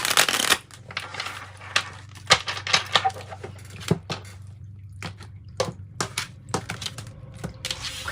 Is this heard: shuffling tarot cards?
yes